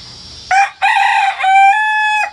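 Young backyard rooster, about fifteen weeks old, crowing once loud and close: a short opening note, a brief break, then a long drawn-out strained call ending abruptly.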